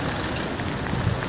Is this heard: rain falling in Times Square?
yes